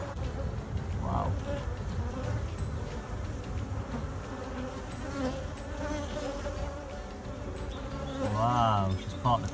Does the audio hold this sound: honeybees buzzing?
yes